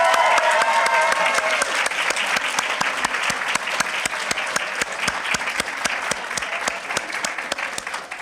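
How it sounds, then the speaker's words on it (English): Graduation ceremony audience keeps clapping for the class in a steady, dense wash of applause, with sharper individual claps standing out; a voice speaks briefly at the start. "One more big round of applause for the class of"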